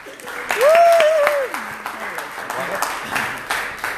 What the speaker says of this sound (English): Big round of applause for Gene McNaughton.